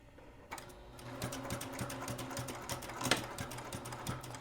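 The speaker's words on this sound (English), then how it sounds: "I'm going to start with a forward stitch, then I'm gonna do a back stitch so we can lock in our stitch." A sewing machine stitches a scrunchie keychain, a quiet, steady rapid mechanical chatter with rhythmic clicking that starts after a brief hush and runs evenly to the end.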